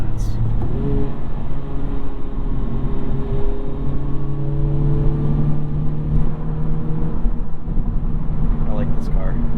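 A 2021 Honda Civic Type R Limited Edition driving, its engine droning steadily from inside the cabin with a shifting tone as revs change, under people talking.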